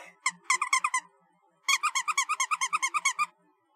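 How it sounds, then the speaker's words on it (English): A Munmun Mania plush toy's squeaker squeezed repeatedly: a short burst of rapid high squeaks, a pause, then a longer even run of about a dozen squeaks, close and clear with no talking. "They squeak! I didn't know these ones had squeakers in them!"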